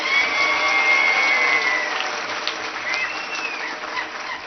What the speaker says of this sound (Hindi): सभा एकजुट होकर एक मुट्ठी से तालियां बजाए और इस प्रस्ताव को पारित करें।